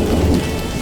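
Cartoon storm effect with steady rain and rumbling thunder, loud and continuous with no speech, for a scene where a unicorn is frightened of a thunderstorm.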